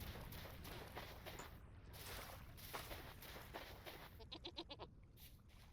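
An Angora goat bleats in the video game Vintage Story. It gives a short, wavering bleat near the end over a constant wash of ambient game noise and soft footsteps.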